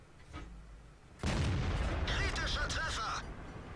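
A single loud tank cannon shot booms from a Panther in World of Tanks, followed by a rolling rumble and ringing metallic echoes over a quiet background.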